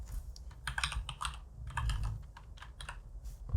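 Someone types on a PC keyboard, entering a fixture brand name into grandMA3 software. Uneven bursts of crisp keystrokes are heard close up, with short pauses between them and no talking.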